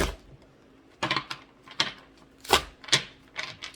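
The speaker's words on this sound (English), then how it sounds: "we'll give it one more good shuffle" A deck of tarot cards riffled and shuffled by hand, heard as several short, crisp papery bursts separated by pauses, fairly close and alone.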